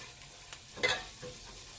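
Food browns in a hot pan with a faint, steady sizzle and a brief scraping stir near the middle, with no voices.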